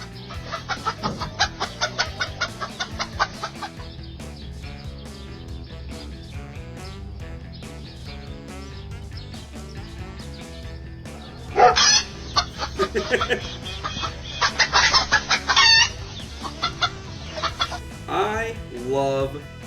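Chickens cluck and squawk in short bursts among other animals in a funny animal montage, the calls set against steady background music that swells louder partway through.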